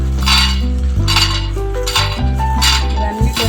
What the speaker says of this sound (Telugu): జీలకర్ర, సోంపు, కొన్ని పల్లీలు, కొద్దిగా అండి ఒక స్పూన్ పల్లీలు, ఇంకా కొబ్బరి అన్నమాట. వేయించుకుందాం ఇవన్నీ.